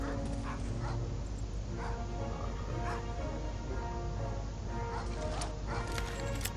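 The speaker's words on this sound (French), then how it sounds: "Oh, le chien là-bas!" A dog barks repeatedly in the Medal of Honor Allied Assault video game, sharp yaps and whimpers over dense, loud game ambience with gunfire-like clatter.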